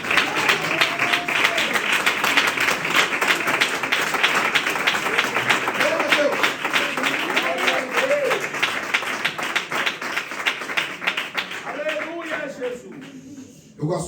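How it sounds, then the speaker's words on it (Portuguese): A church congregation breaks into lively, sustained applause with rhythmic clapping, while voices call out over it before the clapping tapers off near the end. "dar uma salva de palmas para o Senhor Jesus"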